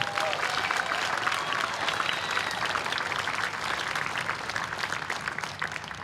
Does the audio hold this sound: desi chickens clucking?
no